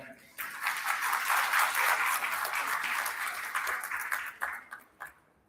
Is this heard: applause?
yes